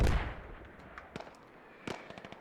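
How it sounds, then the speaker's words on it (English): Mortar rounds land in a video game battle, one heavy explosion at the start followed by scattered sharp blasts and crackling impacts further off. "the mortars are just dropping"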